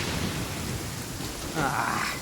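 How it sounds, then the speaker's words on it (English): Rain pours steadily during a thunderstorm in Genshin Impact, a dense wash of noise with a brief swell of rumble near the end. "Uh-oh! Lightning storm!"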